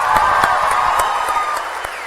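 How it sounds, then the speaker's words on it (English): A graduation audience in a high school ceremony claps steadily, a dense wash of applause from a large crowd, fairly loud and uninterrupted, with no talk over it. "please join me in giving them a round of applause"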